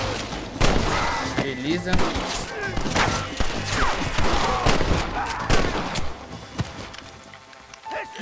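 Gunfire in the video game Red Dead Redemption during a gang shootout: dense bursts of rifle and pistol shots crack continuously, loud and close, mixed with game sounds and a person talking over the action.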